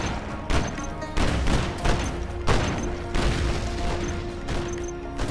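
Rapid gunfire from a rotating-barrel gun comes in loud, dense bursts over about five seconds, with short gaps between the volleys and a constant mechanical whirr underneath.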